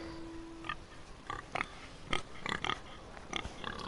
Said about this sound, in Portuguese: Um porco.